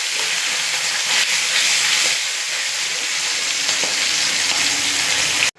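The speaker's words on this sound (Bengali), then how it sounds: "এবারে মাছগুলো ভেজে নেব।" Tangra fish frying in mustard oil in a pan, a loud continuous hissing sizzle, close and steady, cutting off abruptly at the end.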